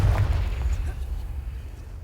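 A Confringo blasting spell bursts in Hogwarts Legacy, a deep muffled boom that rumbles low and fades away over about two seconds, heard alone without any talk.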